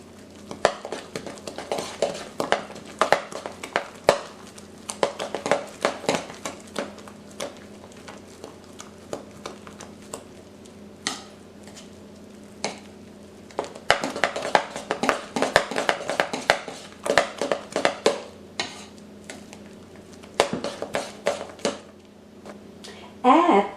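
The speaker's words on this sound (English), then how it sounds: "Let's stir the dough until well blended." Pastele dough stirred in a bowl with a utensil, bursts of scraping and clinking taps that come and go in clusters, with soft rustling between them.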